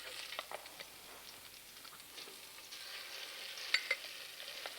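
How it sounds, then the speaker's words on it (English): Beans, chilies and garlic fry in mustard oil in a pan, a soft steady sizzle with occasional stirring scrapes and small pops, fairly faint and alone. "And fry that all up."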